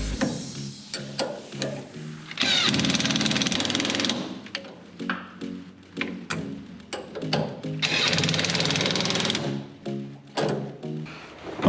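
Sway bar fasteners on a 1966 Mustang are run down with a power tool, two sustained whirring bursts of a couple of seconds each, separated and surrounded by metallic clicks, clanks and handling knocks.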